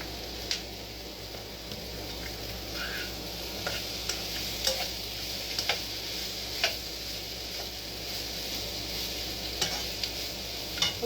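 Capsicum sizzles in a hot pan while paneer bhurji cooks, a constant frying hiss broken by sharp, regular ticks and scrapes of a spoon stirring.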